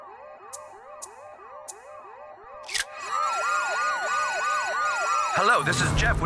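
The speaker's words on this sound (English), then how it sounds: "I can't remember my code to turn off the dang alarm" A home security alarm siren wails in South Park: The Fractured but Whole, repeating rising-and-falling electronic whoops after a few sharp clicks, then growing louder and denser with added noise for several seconds before cutting off abruptly.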